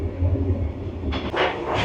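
A passenger train in Vietnam, heard from inside a carriage: a steady low rumble throughout, with bursts of airy hiss and rattle joining in during the second half.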